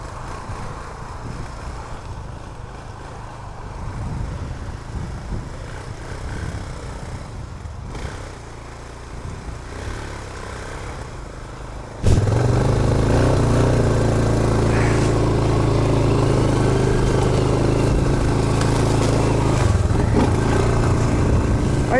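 An ATV engine drones and strains under winch load in deep snow, rough and muffled at first, then jumping to a louder, steady, close hum that holds to the end.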